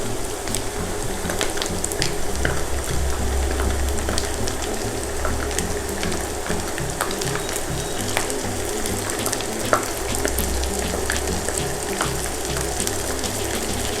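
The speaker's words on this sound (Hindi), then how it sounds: "इसको भी प्याज के साथ फ्राई कर लेंगे।" Steady, dense sizzling of ginger garlic paste frying with onions in a hot pan, with faint crackles and occasional stirring, continuing evenly without any talking.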